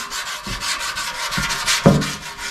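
Close, brisk sanding strokes on glaze over a 30-year-old chopper motorcycle body, rasping back and forth, with a few soft bumps in the scratching rhythm.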